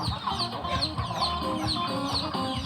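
Chickens clucking nearby in a steady, overlapping chatter of short repeated calls, loud and close.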